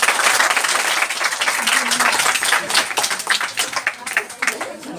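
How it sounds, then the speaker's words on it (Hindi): A congregation claps along at a Christmas celebration, dense, rhythmic clapping that carries straight through, loud and close, with voices mixed in underneath. "हमारे साथ क्लैपिंग कीजिए प्लीज सभी लोग"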